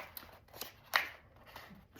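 Paper tearing during the unboxing of a Montana Knife Company knife, heard as a few brief rips. The sharpest and loudest tear comes near the middle of the clip, with softer rustling bursts before and after it.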